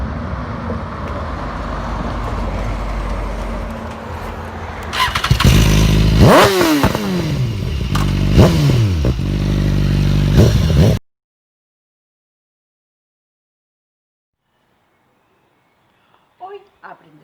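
Motorcycle engines fire up and rev loudly with rising and falling pitch sweeps and clattering mechanical noise, sustained for several seconds before cutting off abruptly to near silence.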